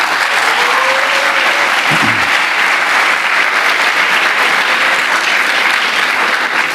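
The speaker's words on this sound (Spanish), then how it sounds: "Para ellos pido un gran aplauso de la sala." An audience in a hall at the opening of an interactive expo bursts into steady, loud applause, a dense continuous clapping that holds for several seconds with no speech over it.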